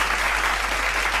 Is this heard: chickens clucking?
no